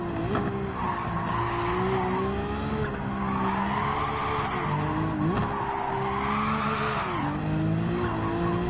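Tires of a Nissan GT-R screech in long sustained skids in a racing video game, the engine droning steadily underneath with rising and falling pitch as the car slides through corners, loud and continuous throughout.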